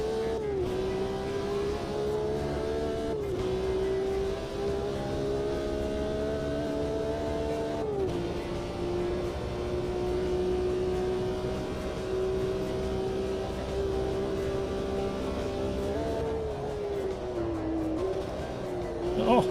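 Race cars running side by side through the Porsche Curves in Automobilista 2: a loud, steady engine howl with pitch shifts at gear changes, a second engine close alongside, and a voice speaking over it.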